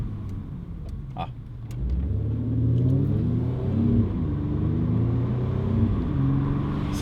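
Powerful RS car with an engine over 220 hp accelerating, a steady engine rumble that rises from about two seconds in and holds strong and close, with the pitch climbing through the gears and no talk over it.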